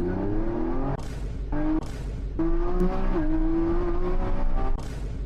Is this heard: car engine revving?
yes